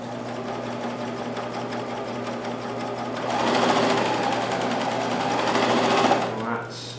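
A Janome CoverPro 1000CPX coverstitch machine sewing a two-thread chain stitch, a steady close whirring hum that speeds up and grows louder midway, then stops abruptly near the end.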